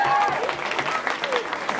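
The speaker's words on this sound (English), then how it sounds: "Give her a big round of applause," Audience clapping for the under-16 winner at a cosplay contest, a steady burst of applause from a crowd lasting the whole moment, with a voice speaking briefly over it.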